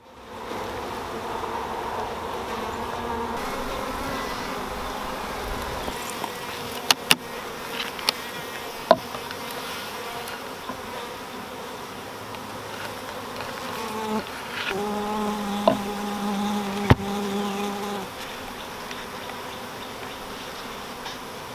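Continuous buzzing of many honeybees around hives, a dense steady drone close by, with occasional sharper clicks and taps.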